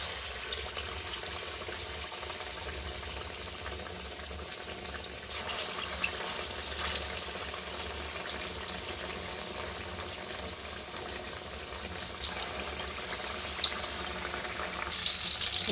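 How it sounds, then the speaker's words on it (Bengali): Oil in a pan and prawn pakoras in gram-flour batter frying, a long continuous hiss and crackle at moderate distance, steady throughout with a slight surge near the end. "তেল ঢেলে দিচ্ছি, এটা করে পকোড়াগুলো ছেড়ে দেবো"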